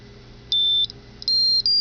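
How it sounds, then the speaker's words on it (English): An alarm clock built as a student project rings with two clear bursts of high electronic beeping, each lasting about a third of a second, loud and alone with no talk. "As you can hear, the alarm rings."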